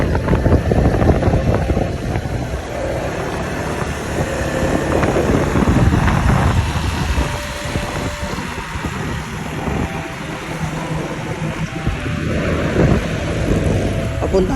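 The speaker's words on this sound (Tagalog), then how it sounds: "dinadrive niya yung motor niya." A new motorcycle being ridden along a road, its engine drone merging with steady wind rush over the microphone, continuous and close throughout.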